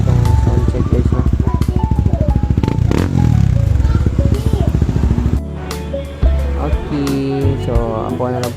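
Honda Flash 150X motorcycle with a modified exhaust revving up close, a loud pulsing engine note that rises and falls through several throttle blips, with some talk mixed in.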